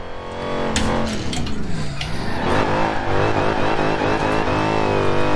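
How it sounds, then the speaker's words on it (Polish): A supercharged car engine in Forza Horizon 4 revs and accelerates loudly and steadily, its rising whine climbing in pitch over a dense, continuous engine roar throughout. "ze względu na dźwięk sprężarki, którą słyszycie teraz na pewno"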